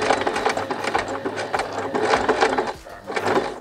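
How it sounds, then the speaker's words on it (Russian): A sewing machine runs steadily, stitching a straight seam along boxer shorts from edge to edge, a close, continuous mechanical whir with a brief slowdown near the end before resuming. "буду сейчас сшивать от края до края обычной прямой строчкой"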